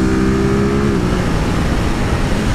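A 2023 Ducati Monster SP motorcycle accelerating out of a curve, its engine note rising briefly then giving way to a steady close rush of wind and road noise.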